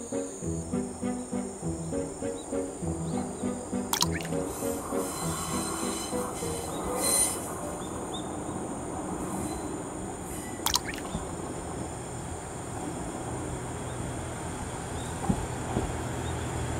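A JR KiHa 110 series diesel railcar on the rural Ban'etsu East Line in Fukushima runs along steadily, with rhythmic wheel clatter early on and sharp metallic squeals near four and eleven seconds, while insects chirp around it.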